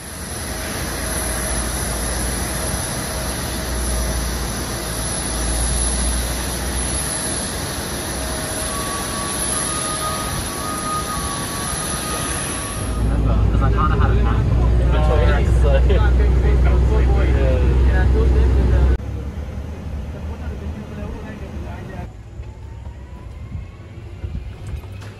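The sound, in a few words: aircraft engines heard from an airport balcony outside the terminal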